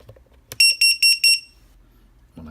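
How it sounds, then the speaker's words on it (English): A Jumper T8SG radio transmitter's buzzer gives four short, loud electronic beeps in quick even succession, high-pitched and piercing, followed by silence and a brief low rumble at the end. "I have my buzzer working."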